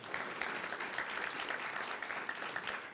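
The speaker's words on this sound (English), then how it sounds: "Clap it up for that." An audience applauds at a Poetry Out Loud competition prize announcement, a brief, steady burst of dense clapping heard alone, moderately loud throughout.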